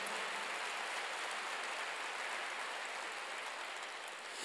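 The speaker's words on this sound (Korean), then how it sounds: "박수" A church congregation claps together in a dense, steady wash of applause that sounds faint and distant.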